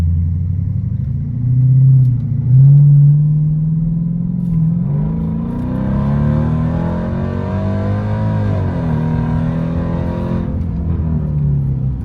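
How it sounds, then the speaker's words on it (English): Ram truck with a swapped 6.4 Hemi V8 accelerating in a short pull, a loud, close rumbling engine that rises in pitch as it revs, alone with no talking. "I'll do a little baby pull right here before I get to the main road so you guys can hear it."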